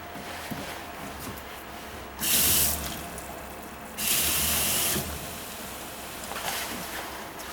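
Water runs from the faucet into the kitchen sink of a 2026 Wolfpack 350Pack15 toy-hauler RV, in two loud bursts of about a second each against a quiet room, with a fainter spray near the end.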